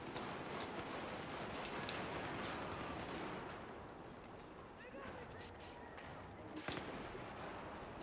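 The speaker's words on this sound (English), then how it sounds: "I just hear a shotgun guy with a gun I don't even own" In Battlefield 4 multiplayer on a snowy map, shotgun and other gunfire cracks out amid dense, loud battle noise, with a sharper distinct shot standing out near the end.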